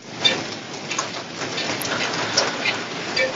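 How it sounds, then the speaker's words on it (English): Steady rain falls in the background, a continuous hiss of drops with a few louder spatters, heard alone without talk. "you guys hear that rain in the background, guys?"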